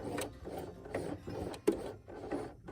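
Sewing machine stitching back over old stitches on a cloth napkin, a close, soft rhythmic mechanical rasp in repeated pulses with a brief sharper click.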